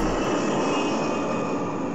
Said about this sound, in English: The Antonov-124 is capable of landing successfully on primitive runways.